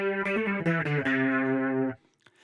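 A Leslie rotary speaker patch in a George Harrison style, playing a short run of sustained, harmonically rich guitar-like notes with a faint swirl before stopping abruptly; no talking.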